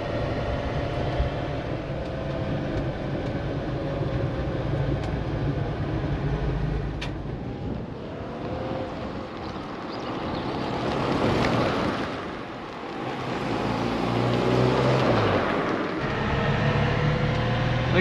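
A Moskvich-2140 with a fresh, not yet broken-in engine drives along at moderate speed. Its engine hum and road rumble run continuously, swelling briefly around the middle and toward the end, heard from inside the car with no talk.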